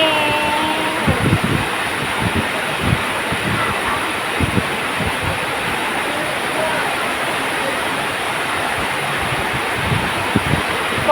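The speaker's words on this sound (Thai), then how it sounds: "แต่ทางนี้ฝนตก" Heavy rain pouring steadily, a dense roar of drops with occasional louder splashes and wind, fairly close and loud throughout.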